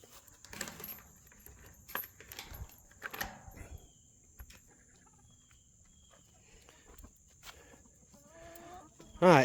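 Chickens moving about a backyard chicken pen and run, giving scattered faint clucks and scratching noises among sharp clicks and knocks, with a louder squawk near the end and a steady high whine throughout.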